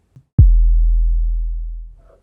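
Raw 808 bass made from a plain sine wave in Serum: a single deep, clean sub-bass note with a sharp attack that sustains and slowly fades over about two seconds, nearly free of harmonics, heard alone.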